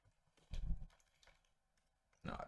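Keys tapped on a computer keyboard while signing into an account, a few short clustered bursts of clicking separated by quiet gaps, close and soft.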